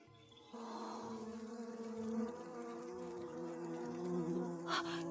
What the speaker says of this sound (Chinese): 三哥，你听到嗡嗡声了吗？